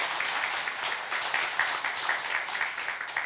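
Church congregation applauding during a Sunday service welcome, steady dense clapping throughout, fairly even and sustained with no voices standing out.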